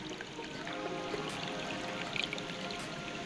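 Water from a small waterfall over bedrock trickles and pours steadily nearby, a small continuous splash with a few brighter drips standing out.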